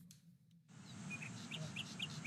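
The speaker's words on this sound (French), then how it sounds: "Le chant des oiseaux, le bruit de l'eau, en pleine nature au bord de la Garonne" Birds singing in open countryside on the banks of the Garonne river, with a few faint, short chirps and tweets scattered over a steady low background hum, fairly distant and quiet.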